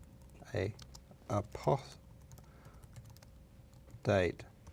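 Short bursts of key clicks from a computer keyboard, a few separate quick taps spread across the moment, with a voice talking between them.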